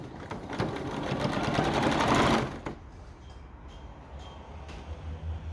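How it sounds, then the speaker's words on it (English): A sewing machine stitching an apron: a loud, fast, steady mechanical whirring run for about two seconds close by, then it stops, leaving faint handling clicks and low background hum. "And then we just need to sew it."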